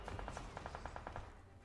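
Rapid burst of video game gunfire, about a dozen quick evenly spaced shots in a fast automatic rhythm, fairly faint and trailing off at the end.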